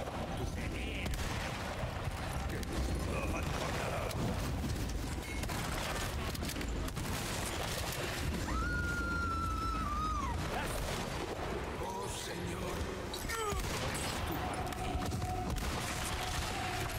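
Rifle fire and combat in Resident Evil 4 Remake on Hardcore difficulty, dense repeated booming shots over a constant loud game soundscape, with a voice talking over it.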